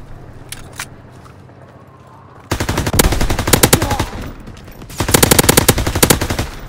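MP40 machine gun fire in a WWII game, loud rapid automatic bursts starting abruptly after a quiet stretch with faint distant shots, then a short lull and another sustained burst.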